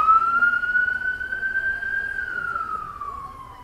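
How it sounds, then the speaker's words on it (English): An ambulance siren sounds on a city road in Bristol, a steady, loud wailing tone that rises slightly and then falls away as it passes, with traffic rumble underneath. "An ambulance coming."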